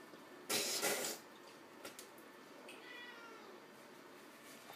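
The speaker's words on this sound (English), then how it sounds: "There's my cat there." A cat gives a short meow nearby over faint background noise, followed by quiet, soft clinks and rustles.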